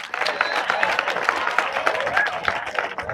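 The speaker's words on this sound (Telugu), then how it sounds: "క్లాప్స్." Applause from junior college students fills the space with dense, steady clapping, a continuous crowd wash without breaks.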